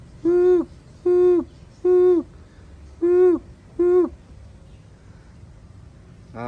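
A pigeon calls five times in a steady, evenly spaced series of loud, close, clear coos, followed by a quiet pause with no talking.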